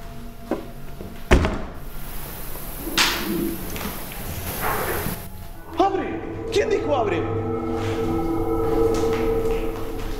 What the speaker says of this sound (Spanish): Vamos a cerrar esta puerta que estaba abierta.